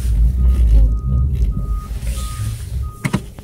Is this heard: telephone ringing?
no